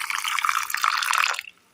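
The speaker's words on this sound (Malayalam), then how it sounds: "ഇനി ഇതിലേക്ക് ഒരൽപ്പം വെള്ളം കൂടി ഒഴിച്ചു കൊടുക്കാം." Water poured from a vessel into a mixer jar holding grated coconut, small onions and coriander powder, a close, steady splashing trickle for about a second and a half before stopping abruptly.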